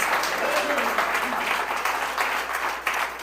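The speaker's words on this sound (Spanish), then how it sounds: "Alguien dé un aplauso a Jesús en esta hora" Spanish-speaking church congregation applauding Jesus during a sermon, a continuous rush of clapping with faint voices mixed in.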